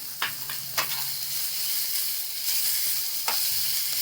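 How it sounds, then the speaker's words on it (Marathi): Onion and chopped, deseeded tomatoes fry in a pan for a dhaba-style sev bhaji. The close, steady sizzle is broken by several sharp clicks and scrapes as a spoon stirs. "ते टॉमॅटो पण भाजून घ्यायचे चांगले"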